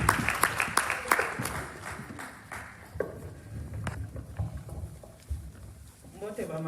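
Scattered audience clapping for Mama Julie at a fundraising evening, a burst of sharp claps early that thins into sparse, uneven hits, with talking over it and a voice near the end.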